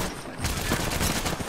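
Gunfire in Apex Legends: a continuous barrage of rapid shots, loud and close, swelling after a brief quieter opening and carrying on to the end.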